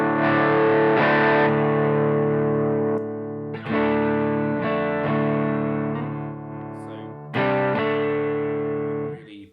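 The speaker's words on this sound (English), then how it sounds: "So if I put the gain on the Riverside on high mode but at about a similar level" Electric guitar played through a Strymon Riverside overdrive pedal set to high gain, giving thick distorted chords that ring out in a few sustained strums and stay loud and close throughout, with no voices.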